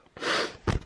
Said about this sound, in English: A bit of a sniffle.